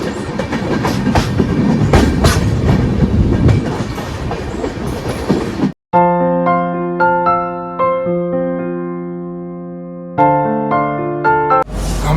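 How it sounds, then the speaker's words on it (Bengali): Shatabdi Express rumbles and clatters as it pulls out of New Farakka Junction bound for Howrah, a loud, dense rolling noise for about six seconds before it gives way to background music. "নটা চব্বিশেই কিন্তু ট্রেন ছেড়ে দিয়েছে হাওড়ার উদ্দেশ্যে নিউ ফারাক্কা জাংশন স্টেশন ছেড়ে বেরিয়ে যাচ্ছে"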